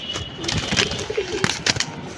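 Domestic pigeons, Rabbani-line Bangi breed, coo in low repeated throaty bursts across the stretch, with brief fluttery noises mixed in and no voices.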